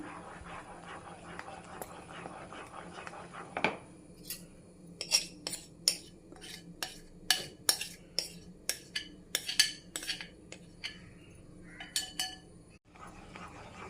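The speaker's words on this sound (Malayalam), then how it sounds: "നല്ലപോലെ ഇളക്കി കൊടുക്കണം." Ghee Mysore Pak mixture stirred in a pan: a quiet run of metallic clinks and scrapes from the spoon against the pan, irregular but frequent in the second half, over a faint background hum.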